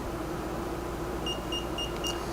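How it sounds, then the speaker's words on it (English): A high electronic beep repeats four times at a steady rhythm over a constant low hum, short and clear tones close by, from a Nissin Di700A camera flash during pairing. "until it starts beeping that noise"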